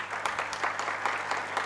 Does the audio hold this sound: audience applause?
yes